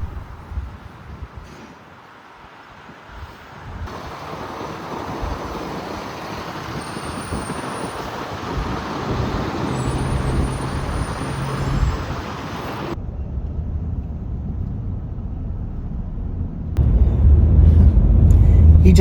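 Road traffic leaving Long Island heard from inside a camper: a continuous rumble of cars and trucks with a brief high squeal, a quieter lull, then a louder surge of engine noise near the end, under occasional talk.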